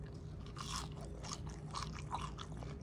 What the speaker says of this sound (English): So listen how crunchy it is when I bite.